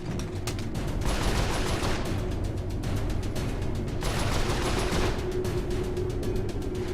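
Rapid turret gunfire in a video game, a sustained loud mechanical barrage with two denser bursts and no talk.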